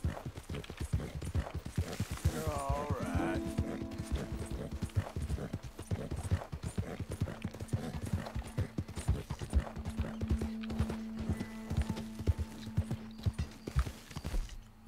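A horse gallops with rapid, steady hoofbeats in Red Dead Redemption 2, with a brief whinny early on and a sustained tone running under the rhythmic clip-clop.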